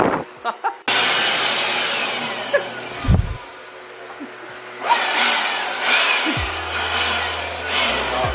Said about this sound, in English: What is Max's fascination about leaf blowers?